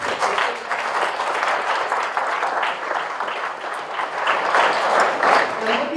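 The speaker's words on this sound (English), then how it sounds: "a round of applause for our extraordinary speakers" A conference audience gives speakers on mental health and disability a sustained round of applause, a dense, even wash of many clapping hands that lasts several seconds and swells slightly near the end.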